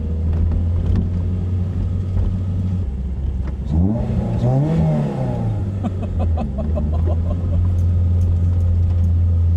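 A Toyota MR2 Spyder with a swapped 2ZZ engine idles with a steady drone, then revs sharply up and back down, followed by a lumpy, burbling idle.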